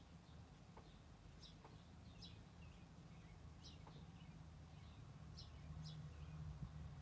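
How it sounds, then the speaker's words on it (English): Small birds sing outdoors, their faint, high chirps and short trills repeating every second or so over a steady low background hum, with no other sounds on top. "Love listening to the birds in between the queuing of the songs."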